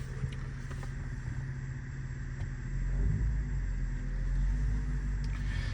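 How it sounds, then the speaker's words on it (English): A supercharged 476 hp Mercedes-Benz CLS 55 AMG pulls away and drives on, its deep engine rumble close and steady, then swelling louder midway as it gathers speed, with no talking. "We're gonna take a car for a little ride, so you can see it works fine and has a very good power."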